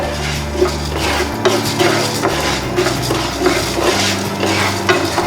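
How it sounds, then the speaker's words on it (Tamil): Urad dal stirred and roasted in hot oil in a metal pan for drumstick leaf podi, with steady scraping and clinking of a utensil against the pan over a faint sizzle and a low background hum. "முதல்ல உளுத்தம் பருப்பு நல்ல செவக்க வறுத்துக்கோங்க."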